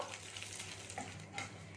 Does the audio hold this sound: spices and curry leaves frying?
yes